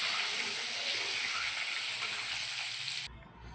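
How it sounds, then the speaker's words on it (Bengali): Halved boiled eggs fry in oil in a pan, making a steady close hiss and crackle that cuts off abruptly near the end, leaving quieter room sound and no talk. "তারপর ডিমগুলোকে আমি ভেজে নেব।"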